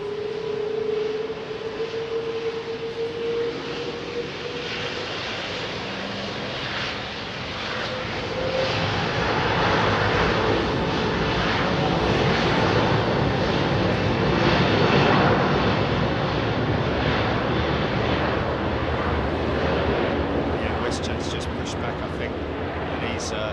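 A heavy jet airliner departs Heathrow, its engine roar building into a loud, sustained rumble that swells and lingers across the whole stretch as the aircraft climbs away.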